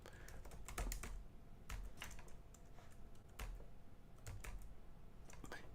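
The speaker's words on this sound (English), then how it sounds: "I'll type that into the" Rapid keystrokes on a computer keyboard as a web address is typed, clicking in quick uneven bursts with short pauses, close and fairly quiet against a faint room background.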